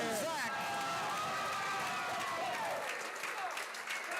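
A cheering section claps and whoops for a performer at a youth singing showcase. The cheering is loud at first, with shrill voices cutting through, then eases off toward the end.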